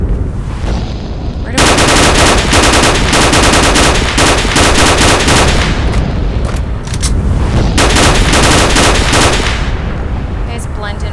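Heavy gunfire and booming blasts in the video game STALKER: Oblivion Lost, loud dense bursts of automatic fire pounding almost nonstop, with a brief spoken line early on.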